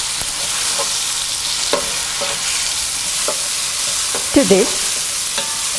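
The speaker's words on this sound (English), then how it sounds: "Add chopped tomatoes and continue to saute until tomatoes are mashed up completely." Chopped tomatoes sauté in a pan for shrimp biryani, sizzling close by, with several distinct scraping stirs and a clatter near the end. A voice speaks very briefly.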